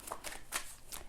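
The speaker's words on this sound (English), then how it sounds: "so I'm going to shuffle in" A deck of tarot cards is shuffled in quick, crisp riffling bursts, about four separate flurries spaced across a short stretch, faint and close with no talking.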